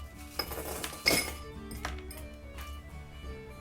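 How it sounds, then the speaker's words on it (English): Ice drops into a cocktail glass rinsed with absinthe, giving a few close, bright clinks and a louder rattle, set against a quiet background hum. "we're just going to grab a little bit of ice"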